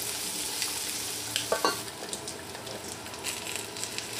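Hotdogs with ground black pepper are stirred in a pan, with a utensil clacking and scraping in a few quick strokes over a steady sizzle. The frying is close and clear, and no one talks.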